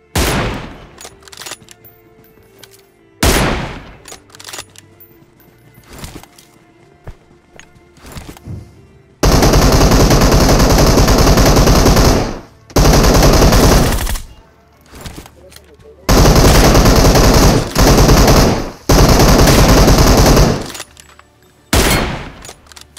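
Rapid bursts of loud gunfire come in several long stretches, broken by short pauses and quieter moments with scattered single shots, including M24 sniper rifle fire in a mobile battle royale game.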